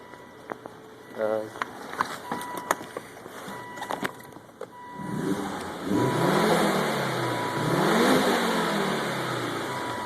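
A 2004 Volvo S60R with its stock exhaust idles with scattered clicks, then revs hard twice, the engine note sweeping up and falling back in close, loud waves.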